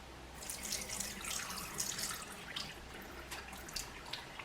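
Lentils being rinsed in warm water at a kitchen sink, with a steady close tap stream and splashing, dripping water throughout.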